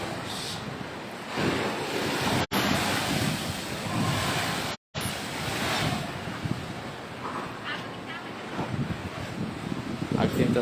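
Rough, heavy surf pounds Galesong beach in Takalar, a continuous loud roar of breaking waves with wind buffeting the microphone and two brief dropouts.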